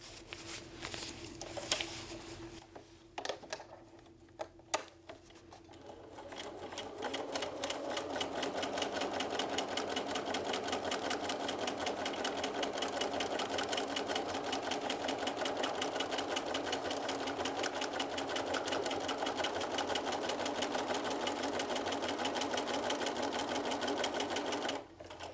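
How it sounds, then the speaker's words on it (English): A sewing machine stitching across a paper piecing line in one long continuous run, its fast even rattle close and steady after a few seconds of quiet handling. "I'm going to sew across this entire line right here"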